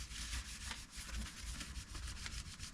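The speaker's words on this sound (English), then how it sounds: "Right now I've just got some panel wipe just to clean off any dirt or grease or dust" A cloth with panel wipe rubs over a car alloy wheel in quick, close back-and-forth strokes, a soft steady scrubbing with no voices.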